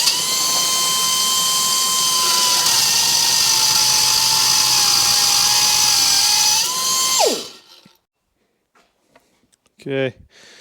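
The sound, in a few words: power tool cutting a piece for pulley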